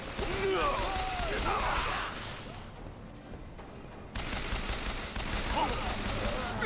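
Rapid gunfire in the video game Bioshock Infinite, loud bursts of shots and impacts that pause briefly before resuming, with voices speaking over the fighting.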